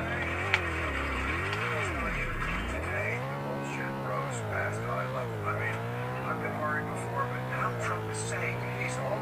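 A racing car engine in the Roblox video game roars steadily, its pitch climbing and falling as it revs through gears, with a deep dip as it slows into a corner before pulling hard again.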